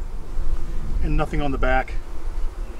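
A loud hive of honey bees gives a steady droning buzz that runs the whole time under a person talking close by.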